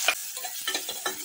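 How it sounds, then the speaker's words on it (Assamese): Onions frying in oil in a wok along with cumin seeds, for a fish curry: a soft crackling sizzle broken by a few short stirring scrapes, close by and moderately quiet, with no talking. "পিঁয়াজখিনি ভাজি লওঁ"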